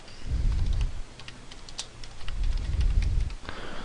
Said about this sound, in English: then type whatever you want